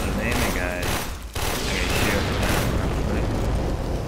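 Gunfire in the shooter game Warframe, a dense, continuous barrage of shots and impacts packed with layered game effects, loud and close throughout with a brief dip partway before the firing resumes.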